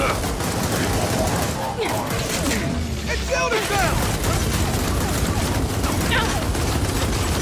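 Rapid pistol fire and chaotic shooting in the co-op shooter Gears of War 4, a dense, steady barrage of loud shots with other combat noise and faint voices underneath throughout.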